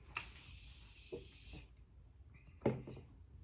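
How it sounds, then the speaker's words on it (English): Morphe setting spray misted onto the face during makeup: a steady pump-spray hiss lasting over a second, followed by faint rubbing and a sharper brief noise near the end, close and quiet with no talk. "spray a little bit of Morphe"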